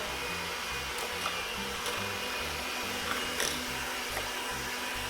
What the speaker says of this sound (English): Get your mixer ready. You also can do this in your KitchenAid if you want. Just put it on low.